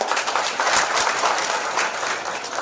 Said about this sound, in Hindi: ताली खड़ा करवा के ताली बजाओ